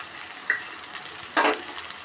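Onions with green chilli and curry leaves sauté in a pan for chilli parotta, a soft steady sizzle with a couple of brief scraping stirs.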